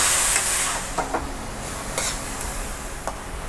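Onion frying in oil in a kadai for chicken kadai: a steady, close sizzling hiss with a few soft stirring clicks and scrapes scattered through it.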